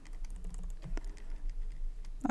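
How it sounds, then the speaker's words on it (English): Keys tapped on a computer keyboard during photo editing, with scattered light clicks across the span and a sharper cluster of presses near the end, fairly close and alone without talk. "I just pressed 0 on my keyboard"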